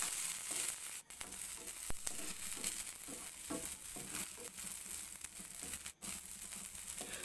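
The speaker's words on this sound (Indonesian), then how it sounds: "goreng cabai hijau, cabai rawit, bawang merah, bawang putih yang sudah dipotong-potong seperti ini. Goreng hingga semuanya matang" Chopped green chilies, bird's eye chilies, shallots and garlic fry in hot oil, giving a steady, dense sizzle with crackling and popping throughout, close and continuous with no voices.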